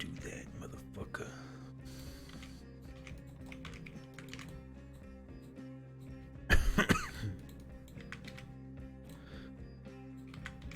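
A single sharp cough bursts out close to a microphone during a gaming stream, set among quiet keyboard typing and soft background tones.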